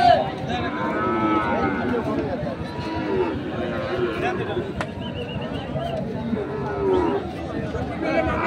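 Cattle mooing at a busy livestock market, several drawn-out lowing calls rising over a constant crowd chatter and people talking nearby.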